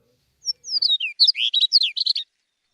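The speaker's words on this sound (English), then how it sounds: "that's the song of the chestnut-collared longspur" Song of a chestnut-collared longspur: a rapid, tumbling run of high, bright warbled notes about a second and a half long, clear and close with no talking.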